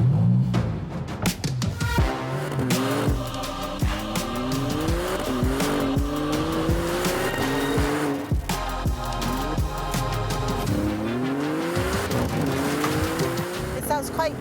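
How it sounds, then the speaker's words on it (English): A mid-engine Maserati MC20 with a twin-turbo engine revs hard through repeated rising gear pulls, a loud close engine note with turbo whine and brief gaps between shifts, with some voices underneath. "You get a lot of turbo coming on. Can you hear the whistle?"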